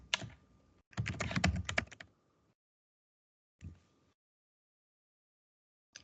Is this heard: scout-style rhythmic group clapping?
no